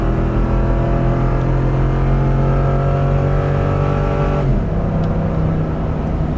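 A 2019 Ford F250 pickup towing an RV uphill drones loudly and steadily, its engine note holding constant with a slight shift partway through.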